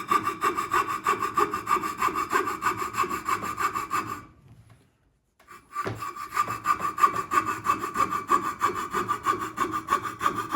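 A carving knife or blade shaves wood on the head of a black duck decoy in steady, rhythmic rasping strokes. The cutting stops briefly for about a second and then resumes close by.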